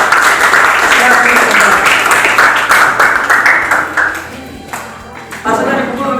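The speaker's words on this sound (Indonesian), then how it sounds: "sekali lagi tepuk tangan untuk kelompok keempat" A classroom group claps for a fourth student group after their presentation during an academic coaching session, the applause loud and dense at first, then thinning into scattered claps before a final burst.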